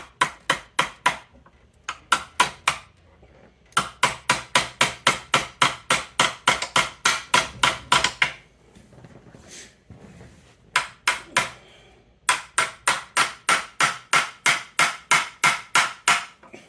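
Hammering a roll pin into a front mount shifter, bursts of rapid, evenly spaced metallic blows repeated in long runs with short pauses between them, close and loud.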